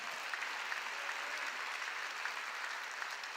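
A church congregation claps together during a Korean sermon. The dense, even hiss of many hands clapping holds steady and fairly faint throughout, with no voices over it.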